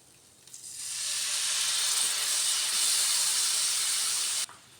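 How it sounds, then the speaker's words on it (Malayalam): Masala-ground water poured into a hot spice mix for egg curry sets off a loud rushing hiss of steam and sizzle that swells, holds steady for a few seconds, then cuts off sharply. "ഇനി നമുക്കിതിലേക്ക് മസാല അരച്ച വാട്ടർ ആഡ് ചെയ്ത് കൊടുക്കാം."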